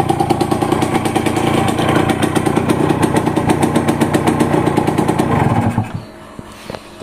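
A two-stroke Yamaha TZM motorcycle engine runs loud and close with a buzzy, rapid-firing rattle, then abruptly drops off near the end to a quieter idle.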